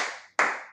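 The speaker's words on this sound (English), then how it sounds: "So give yourself the loud clap." Two sharp hand claps from a child singing along in a song lesson, close and clean, separated by a brief silence, each ringing out and decaying quickly.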